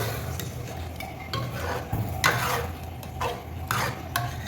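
Mutton masala gravy is stirred with water in a pan, making repeated scraping and sloshing strokes at an uneven pace over a low, steady background hiss.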